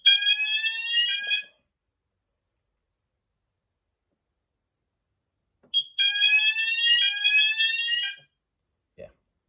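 A fire alarm panel in full alarm drives an electronic sounder in two loud, steady bursts of tone separated by several seconds of silence.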